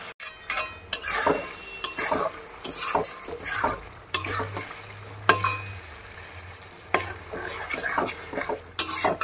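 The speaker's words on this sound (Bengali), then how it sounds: "এখানে ছালটা আগে কষিয়ে নিচ্ছি, তারপরে সিদ্ধটা বাঁধাকপি দিয়ে ভালো করে কষিয়ে কষিয়ে রান্না করবো।" Citrus or vegetable peel stir-fried in a home kitchen pan before cabbage goes in, with a close, steady sizzle, repeated scraping strokes of a spatula against the pan and occasional metal clinks, no voices.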